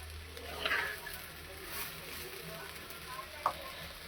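Spice paste sizzles in hot white vegetable oil in a home kitchen pan while being stir-fried for a potato curry, a steady faint hiss with a couple of brief clinks partway through.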